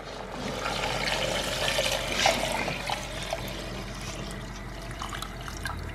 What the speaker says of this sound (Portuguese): Aqui eu já acrescento água.